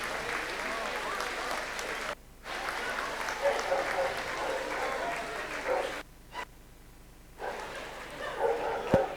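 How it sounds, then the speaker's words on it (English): At a championship dog show, the ringside crowd applauds as Afghan Hound, Borzoi and Irish Wolfhound entrants leave the ring, a moderate continuous clapping broken by two brief drops, with a faint dog yip and some voices underneath. "a round of applause, please, for the Afghan Hound, the Borzoi, the Saxon Smooth, and the Irish Wolfhound as they leave the ring"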